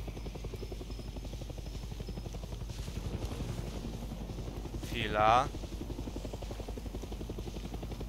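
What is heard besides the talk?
helicopter flying overhead in Far Cry video game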